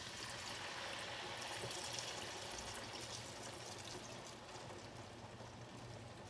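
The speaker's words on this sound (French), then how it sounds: "Quand le riz devient un peu translucide sur les côtés, on peut ajouter le vin blanc" White wine pours into risotto rice cooking in a pan, a steady close wash of liquid and sizzle that holds evenly and eases slightly toward the end.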